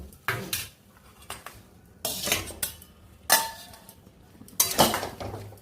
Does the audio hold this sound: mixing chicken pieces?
yes